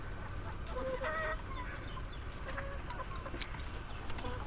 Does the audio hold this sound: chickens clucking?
yes